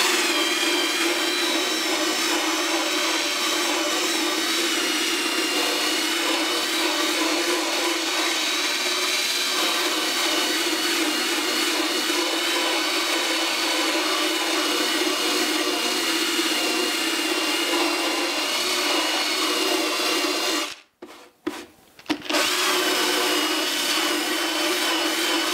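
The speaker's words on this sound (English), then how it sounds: "a little nylon brush and just a drill, and I also put some water on it" A drill spinning a small nylon brush scrubs wet hempstone, a natural composite made from hemp and water, giving a steady, close, loud motor whine with a broad scrubbing hiss that cuts out briefly near the end before starting again.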